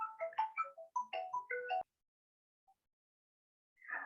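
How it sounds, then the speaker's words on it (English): A phone ringtone plays a quick melodic run of electronic beeps, then stops, with a brief faint blip and a short burst of the tune starting again near the end. "I will answer the phone first."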